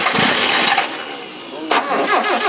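A classic 1970s Japanese rear-wheel-drive coupe found in a barn cranks and begins to start, a loud, close mechanical burst with voices talking alongside.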